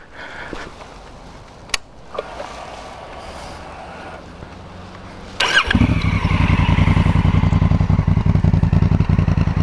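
A Honda Africa Twin Adventure Sports motorcycle with its exhaust fires up partway through after some quiet handling clatter, then settles into a loud, steady, close engine rumble.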